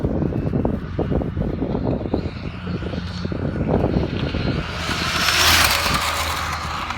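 Arrma Infraction V2 RC car fitted with a high-speed pinion gear, its electric motor whining louder as it accelerates on throttle during a top-speed pass, heard from a distance with some crunching ground noise.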